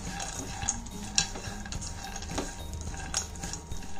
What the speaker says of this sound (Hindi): इन सब चीजों को हम अच्छे से मिक्स करके 2 मिनट के लिए रोस्ट कर लेंगे।